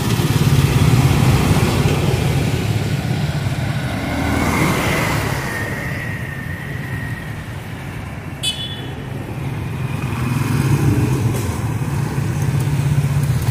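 A motorcycle engine runs and idles nearby, a rumbling drone that rises and falls, with passing traffic noise and a brief horn toot.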